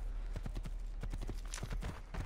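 Horse hooves clip-clopping in the video game Assassin's Creed II, a quick, steady trotting patter that is fairly faint over a constant low background hum, with no talk.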